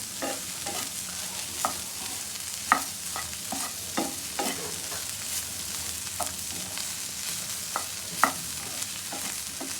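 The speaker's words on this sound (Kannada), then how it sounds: "ಒಂದೆರಡು ನಿಮಿಷ ಇದೇ ಥರ ಫ್ರೈ ಮಾಡಿಕೊಂಡ್ರೆ ಸೊ ಸೋಯಾ ರೆಡಿ ಆಗುತ್ತೆ ತಿನ್ನೋದಕ್ಕೆ" Soya chunks stirred and fried in a pan with about a teaspoon of oil, a steady soft sizzle broken by repeated scraping knocks of the spoon at irregular intervals, close by with no talking.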